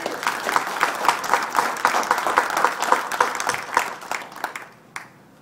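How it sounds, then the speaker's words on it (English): An outdoor Confederate Memorial Day crowd in Ripley applauds, with a burst of scattered hand clapping that swells, holds for several seconds, then thins out and fades. "I think we owe him a round of applause on that"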